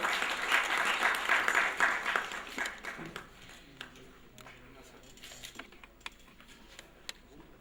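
Warm applause from the audience at an award function in New Delhi, dense clapping for a few seconds that thins into scattered individual claps and fades, with faint murmuring beneath.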